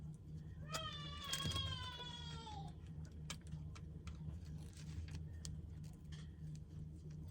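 A cat meows a couple of times, close and fairly clear, over a quiet room with faint ticking and background hum.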